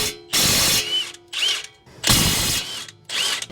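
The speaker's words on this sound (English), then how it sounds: "I'm going to use the same 2960 Milwaukee little impact here and take this off." A Milwaukee 2960 compact impact wrench loosens 17 mm caliper bracket bolts on a Mazda CX-9 front brake job. It gives a few loud, close bursts of rattling hammering, each lasting around half a second to a second, with short pauses between them.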